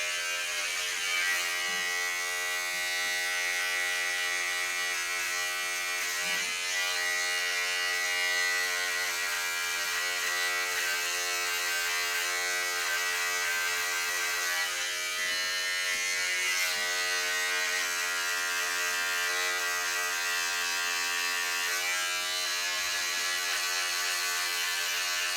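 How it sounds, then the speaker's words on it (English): An electric hair clipper hums in a steady, close, continuous buzz during a self-cut burst fade, its pitch wavering slightly as it is pushed through hair, with no talk over it. "now we're going to turn the clipper so that you can see that I'm pushing it in a burst motion"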